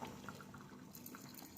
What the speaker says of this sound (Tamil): இப்போ இந்த டைமில் நம்ம கரைச்சி வச்சுருக்க புளி தண்ணியை சேர்த்து விட்டுக்கலாம்